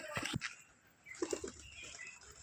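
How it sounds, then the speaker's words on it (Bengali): Soft bursts of flapping wings as four pigeons, including Girribaz, take off, quick fluttering beats heard at a distance in a quiet setting. "আবার চারটে পায়রা উঠছে"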